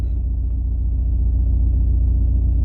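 An Audi A4 1.9 TDI diesel engine idles steadily, a smooth, even low rumble with a regular pulsing beat, close and continuous with no voices.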